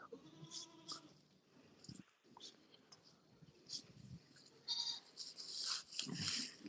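A goat on a livestock farm bleats several times, close and fairly loud, while a person talks quietly in between.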